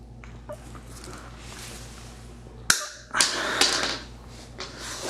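Bike shifter cable trimmed with cutters during a Shimano Zee M640 installation: a sharp close snip followed by a few metallic clicks and rustles over a faint steady hum.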